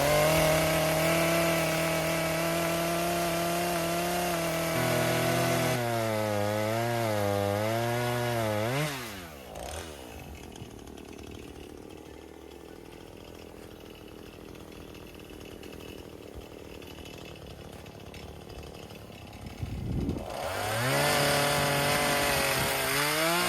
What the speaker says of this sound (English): Ripping that direction is so hard on the chainsaw.